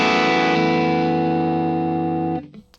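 An electric guitar chord rings through a Vox-style Bad Cub amp model on a Valeton GP-200LT, a single loud sustained strum with steady harmonics that holds for over two seconds before being muted.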